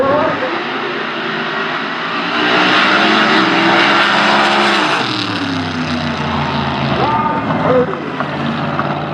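A Corvette funny car at the Albuquerque Dragway drag strip roars loudly past and down the track, a dense, harsh engine blast that swells to a peak and then fades with a falling pitch as it passes, with crowd or voices faintly mixed in.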